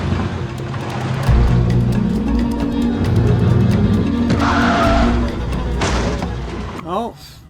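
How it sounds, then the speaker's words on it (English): A car skids with squealing tires and then gets rear-ended with a thud in a TV drama, a loud continuous engine-and-tire roar giving way to a sharp impact near the end, with voices over part of it. "just like Adam Martin, got rear-ended again."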